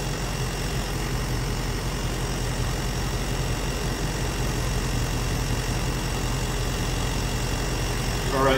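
A YANTU 12V heavy-duty air compressor inflates car tires, giving off a constant, loud droning motor hum with a buzzing edge that runs unbroken throughout.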